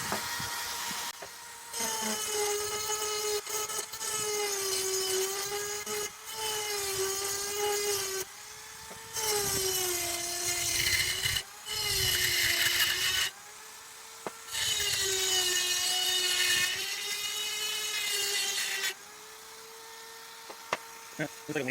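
A machine with worn bearings runs in long stretches, giving a steady grinding whine that wavers in pitch, with repeated stops and restarts, close and fairly loud.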